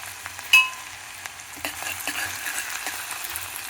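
Onions and green chillies frying in a pan, soft sizzling with a sharp metallic clink early and light scraping stirs, fairly quiet and close.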